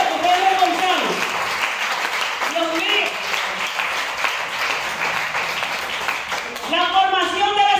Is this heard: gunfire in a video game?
no